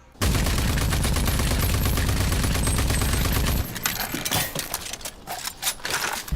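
Gunfire in the first-person shooter RAGE 2: a loud, dense burst of rapid automatic shots rattles continuously, then breaks into scattered, punchier single blasts and bursts.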